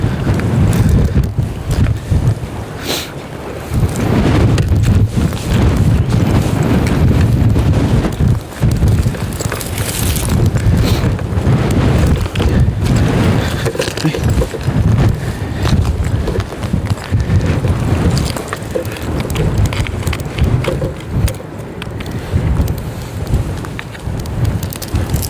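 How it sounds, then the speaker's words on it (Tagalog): Strong wind buffeting outdoors on a shrimp-bait fishing outing, a loud continuous roar with gusty broadband rumble and rattling bursts, no talk. "Malakas pa rin yung hangin."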